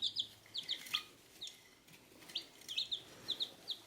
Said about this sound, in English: They're super cute, and they make very adorable chirping noises all day long.